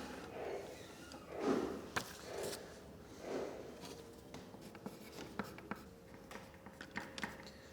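A pen scratches across a piece of paper as a message is written at a modern art gallery, with soft irregular strokes, taps and pauses, close and quiet, alone.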